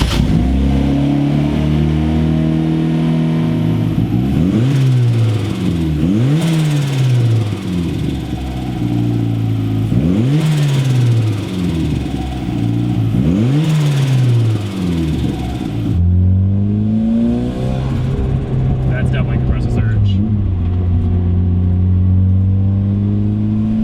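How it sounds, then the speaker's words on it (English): A car engine with a turbo revs up and down repeatedly, loud and close, its pitch climbing and falling in waves while the compressor surges, with no blow-off valve release. "It kept compressor surging, which obviously isn't good."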